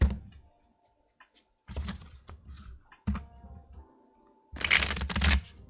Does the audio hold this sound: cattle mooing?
no